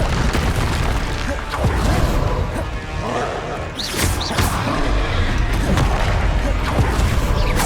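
A troll struck by its own hurled boulder in Hogwarts Legacy, with heavy crashing impacts and rumbling booms piling up loudly and continuously amid dense spell and combat noise, one sharper smash standing out midway.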